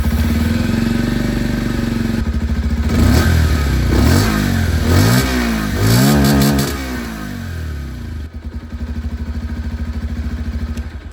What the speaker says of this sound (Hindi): अब मैं आप लोगों को यहां पर जो पल्सर 125 है इसकी भी आवाज सुना देता हूं।